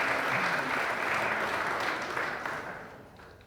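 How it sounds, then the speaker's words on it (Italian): An audience at an organ-donor association anniversary gathering bursts into steady, dense applause, then the clapping gradually fades away. "facciamo un applauso anche a Angelino"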